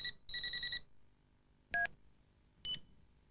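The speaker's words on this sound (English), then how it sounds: "as you scroll through the options, you'll hear a sample of each type." Ringing volume samples from a 1993 Optus mobile phone: a quick burst of electronic beeps, then two separate short tone chirps, each louder than the last, heard close and clean with no talk.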